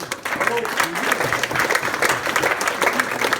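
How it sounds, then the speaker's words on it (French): A crowd applauds elected officials at a regional election results speech, with loud, close, continuous clapping and some voices mixed in. "On peut applaudir les élus qui m'entourent."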